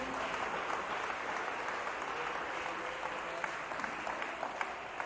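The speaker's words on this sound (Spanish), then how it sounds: "Denle ese aplauso fuerte a Jesús." A church congregation applauds in a steady, dense wash of clapping that holds at an even level for about five seconds, with a few sharper individual claps standing out near the end.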